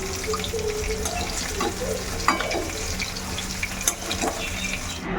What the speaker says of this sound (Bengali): গ্যাসের ফ্লেম একেবারে হাই করে গরম তেলে চিংড়ি মাছগুলোকে দিলেই হয়ে যাবে